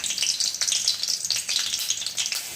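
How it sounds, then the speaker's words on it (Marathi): Garlic frying in oil in a pan while a vegetable dish for a lunchbox is cooked, a close, bright, continuous sizzle with crackling spits. "आता थोडंसं तेल टाकते दोन चमचे लसूण राहिलेला होता जो बाजूला काढलेला होता तो लसूण टाकते याच्यात"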